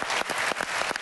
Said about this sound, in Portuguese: E o João Jesus, que merece aqui um enorme aplauso.